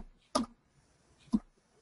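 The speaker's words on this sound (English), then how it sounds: "Matt, try the up and down arrows on your keyboard." Two crisp, isolated key presses on a computer keyboard's arrow keys, about a second apart, close and fairly quiet against faint background noise.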